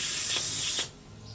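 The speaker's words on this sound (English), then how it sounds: "I just spray it up a little bit with the carb cleaner." Carb cleaner from an aerosol can sprays onto a gunked-up lawn mower part in a loud, close hiss with two brief pulses, then cuts off abruptly.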